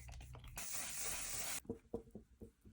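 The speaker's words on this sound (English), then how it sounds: "Use the e.l.f. Power Grip Dewy Setting Spray and the One Size On Till Dawn." A single sustained burst of e.l.f. Power Grip Dewy setting spray misted onto a face, a loud, even hiss lasting about a second, followed by a few soft tapping and handling sounds.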